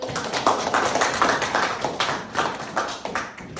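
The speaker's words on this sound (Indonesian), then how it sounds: "Mari kita berikan aplaus." Audience applause at a school class performance, a steady patter of many hands clapping together at close range for several seconds.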